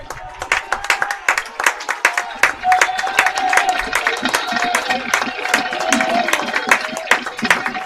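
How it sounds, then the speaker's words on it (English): Stadium crowd at a high school varsity baseball semifinal game (Redwood vs. Tam) rising in a standing ovation for the pitcher, with dense sustained clapping and scattered cheers throughout. "Crowd giving him an absolutely well-deserved standing ovation"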